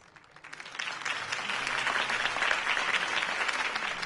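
A crowd bursts into applause after a mayoral campaign speech in Batman: The Telltale Series, the clapping swelling quickly and holding steady and full for several seconds.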